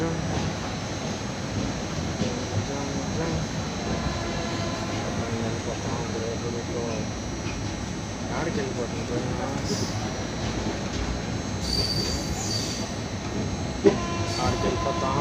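A Hyderabad Superfast Express running from Chennai Central to Hyderabad Deccan gives a steady, loud rolling rumble with clattering wheel noise that carries on unbroken for the whole stretch.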